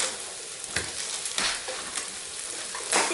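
Turkey meatloaf meat mixture being stirred in a bowl, giving a steady, close wet churning with soft squelches and a few louder scraping strokes spread irregularly across the stretch, with no talking.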